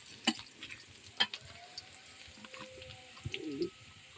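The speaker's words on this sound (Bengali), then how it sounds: "পেঁয়াজ আর তেল দিয়ে দিয়েছি। পেঁয়াজ বেরেস্তা করে নেব।" Onions frying in oil until crisp, a low, steady sizzle running quietly throughout with a couple of sharp clinks near the start and a faint warbling tone near the end.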